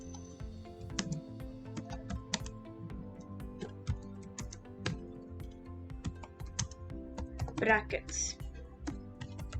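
Computer keyboard typing, a steady run of light clicky keystrokes under a voice explaining Python code, continuing throughout.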